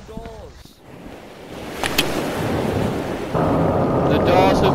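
Water rushing into a flooded boiler room aboard a Titanic-style ship in Rec Room, a broad steady wash that swells louder partway through, with brief voices near the start.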